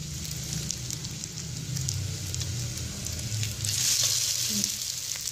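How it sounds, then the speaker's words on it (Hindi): Bread and egg frying in a pan for a fried egg sandwich, a steady close hiss and crackle of hot oil that gets louder toward the end, with no one talking. "और अभी हम इसे अच्छे से फ्राई कर लेंगे।"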